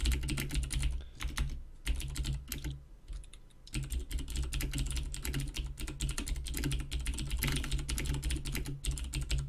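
Fast, busy typing on a computer keyboard fills the stretch, dense clattering keystrokes with a short pause partway through before the rapid tapping resumes, close and steady with no talking.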